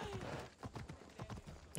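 Hooves clip-clop in a rapid, even rhythm from a galloping horse in the video game Assassin's Creed Odyssey, faint and brief, with a short bright accent at the very end.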